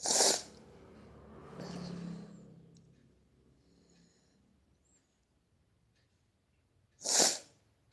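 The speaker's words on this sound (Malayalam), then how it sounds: "ചേച്ചി തുമ്മുന്നത് കേട്ട് എനിക്ക് തുമ്മൽ വരുന്നു." A person sneezes loudly and close, once at the start and again near the end, with a soft breathy pause between the two sneezes.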